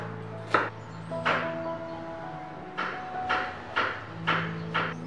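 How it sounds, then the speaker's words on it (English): A knife chops food on a board in a home kitchen during Iftar dinner preparation, about seven separate sharp cuts spaced irregularly over a low steady background hum, fairly faint with no voices. "I gave him all the chopping and cutting jobs"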